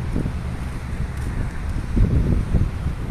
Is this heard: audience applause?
no